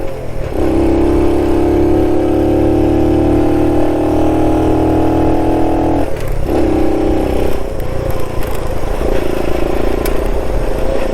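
A 1969 Honda Trail CT90 motorcycle ridden across desert flats, its small engine droning loud and close at steady revs, briefly dipping and rising again as the throttle shifts.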